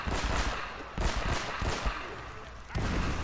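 Bursts of rapid gunfire in the video game Uncharted: Drake's Fortune crackle in dense volleys, loud and close, with sharp cracks layered over a rumbling backdrop.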